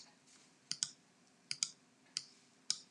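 Light clicks on a computer keyboard come in four short pairs spaced evenly apart, faint against a quiet room with a soft hum underneath.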